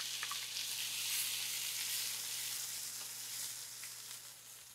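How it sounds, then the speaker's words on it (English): Onion sautés in a pan with a soft, even, continuous sizzle that holds steady throughout, close and fairly quiet, with no voices over it. "We're gonna saute our onion."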